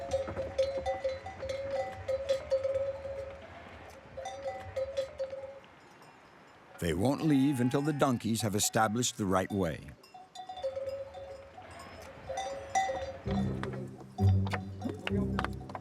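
Sheep and goats wearing cowbells move along a rocky mountain path; the bells clank irregularly while bleats crowd the middle stretch. A narrator talks over much of it.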